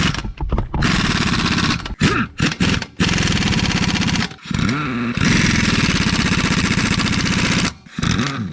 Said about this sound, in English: I got to start the vehicle up, straighten the wheel out